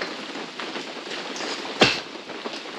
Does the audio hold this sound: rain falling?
yes